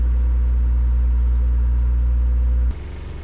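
Boat engine motoring steadily at 6.5 knots, a loud, close, continuous low drone that cuts to a quieter level near the end.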